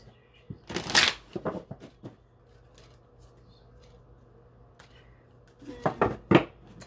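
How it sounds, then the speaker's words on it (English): Tarot cards are shuffled close by in two bursts of riffling, papery slaps, one near the start and one at the end. A quieter, near-silent gap sits between them. "I'm going to pull a card to see what your energy is going to be like this week"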